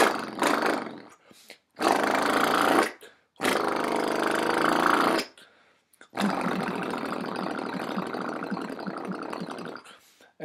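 Close, loud vocal imitation of a Harley Davidson motorcycle: growling, buzzing roars in three short bursts separated by breaths, then one long sustained rev lasting several seconds.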